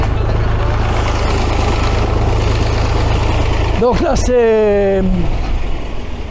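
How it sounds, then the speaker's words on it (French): A large old stationary engine at a heavy-engine exhibition, being started with its auxiliary starter, produces a loud, steady low mechanical rumble throughout, with a brief rising whine late on while someone speaks over it. "On va assister à un démarrage de moteur."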